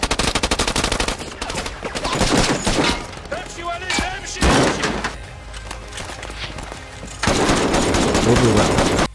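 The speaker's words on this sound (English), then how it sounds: "enemies begin shooting them as soon as they exit the Humvee" Gunfire from a war film scene as enemies open fire on soldiers leaving a Humvee, bursts of automatic shots and single cracks in loud volleys, with shouting voices mixed between the salvos.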